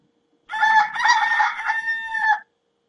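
A rooster sound effect from a soundboard crows once, a loud, close cock-a-doodle-doo lasting about two seconds and ending abruptly into silence.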